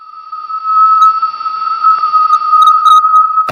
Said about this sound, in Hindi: ये तीसरी ऑडियो हाई चार्ज पार्टिकल्स में होने वाले प्रेशर चेंजेस की आवाज है, जो किसी बच्चे के रोने की जैसी प्रतीत होती है